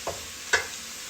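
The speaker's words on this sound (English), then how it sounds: "I am in the process of sauteing the onions" Onions sautéing in a pan for a tuna casserole give a steady, soft sizzle, with two brief utensil scrapes or stirs cutting through it.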